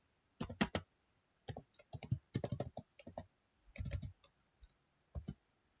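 Typing a command on a computer keyboard, quick clusters of crisp key clicks in irregular bursts with short gaps, close and clear with no talking.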